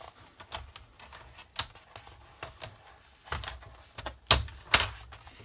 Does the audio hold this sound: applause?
no